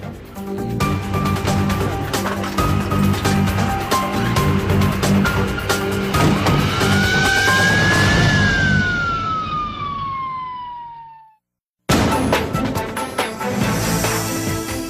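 Ambulance siren wailing loudly over a busy street, one long tone sweeping up then falling away as the vehicle passes, ahead of a brief cut and renewed traffic noise.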